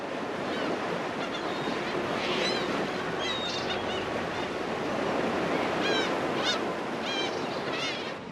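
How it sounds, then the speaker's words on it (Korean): Heavy sea swell surges and washes around a 77-ton trap fishing boat, a loud continuous roar of water and wind with occasional high squeaks from gear or birds, and no talking. "너울이 점점 더 크게 요동치기 시작합니다"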